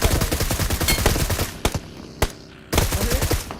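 Gunfire during a fight in the mobile game PUBG, loud rapid automatic bursts close by, broken by a few sharp single shots and a short lull before the shooting resumes.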